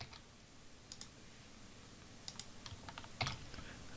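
Sparse, irregular clicks of a computer keyboard as database credentials are entered while setting up a WordPress site, with a few quick keystroke bursts over a quiet background and no talking.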